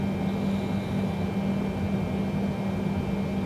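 An aircraft engine runs at full throttle for a one-engine takeoff in Microsoft Flight Simulator, giving a steady, loud, unbroken drone with a constant hum and a thin high whine.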